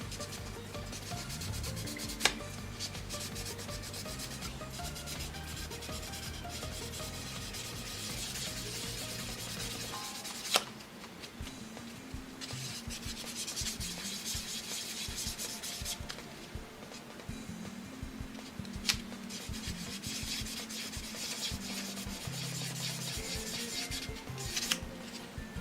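A sanding sponge rubs steadily against a plastic Gunpla model part, likely an MG Zaku Cannon piece, making a continuous close scratchy scraping that shifts slightly in pace around the midpoint, with no talking.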